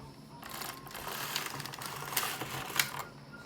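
A Singer knitting machine carriage is pushed across the bed, knitting alpaca wool, giving a steady mechanical clatter and rattle with a few sharper clicks near the end, close up and alone.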